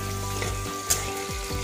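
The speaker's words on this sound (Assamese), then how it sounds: "এতিয়া আমি গাহৰিৰ যিখিনি ফেট হয় তেল হয় সেইখিনি আমি শুকান কেৰাহীত ভাজি আছোঁ।" Pork fat renders as it fries in a dry wok, giving off a continuous loud hissing sizzle over a low steady hum, with no voices.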